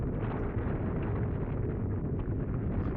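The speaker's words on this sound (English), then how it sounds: "There was the sound of an explosion and a violent shaking" A deep, roaring explosion rumbles on steadily for a few seconds in the Chaos;Head Noah visual novel, thick with low-end energy and no distinct breaks.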